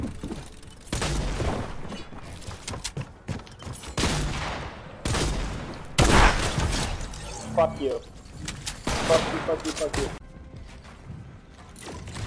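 Gunshots ring out in a video game firefight, several loud cracks and bursts spread irregularly over the stretch, mixed with clattering mechanical game effects and heard under intermittent talk from players.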